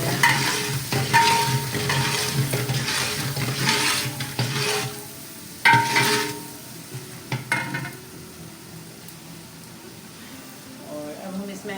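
Mint and green coriander being stirred into a frying pot for aloo tehri, with irregular scraping strokes over a steady sizzle that fades toward the end and some background speech.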